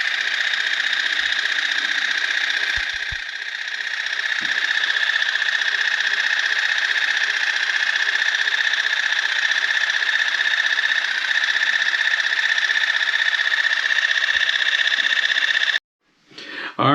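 Cordless water flosser for teeth running steadily, a loud close electric whine with a buzzing motor tone that holds for most of the clip, then cuts off abruptly near the end.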